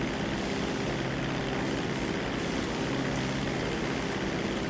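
A propeller airplane in a video game drones steadily at full power during its takeoff run, a constant loud engine and airscrew roar with no talk.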